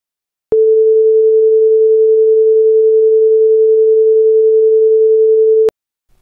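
Two identical sine tones near 400 Hz play together as a single loud, steady, pure tone, lasting about five seconds with clean starts and stops.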